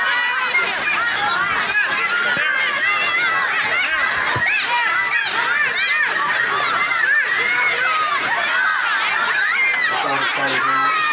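A crowd of youngsters at a junior B camogie championship final shouts and cheers, many high excited voices overlapping in a loud, continuous clamour with shrill calls rising throughout.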